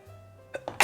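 A person sneezes indoors: a couple of short breathy bursts build into one loud, abrupt sneeze, close to the mic with a faint hum behind.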